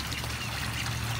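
Fresh water is poured for ducks on a rainy homestead morning: a steady, hissing trickle fills the short moment from start to finish, with no voices.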